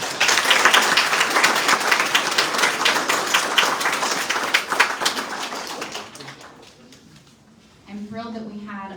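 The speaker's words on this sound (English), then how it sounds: "but a heavy round of applause." An awards ceremony audience gives a full round of applause, steady clapping for about six seconds that fades out before a voice begins speaking.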